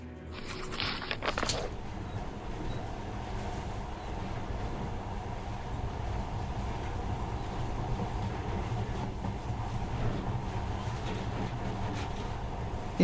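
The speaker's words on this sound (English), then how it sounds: "But now, this monorail seems magic, doesn't it?" Monorail train running in Metro Last Light Redux, a steady low rumbling drone of rail travel that persists evenly throughout, preceded by a brief burst of noise at the start.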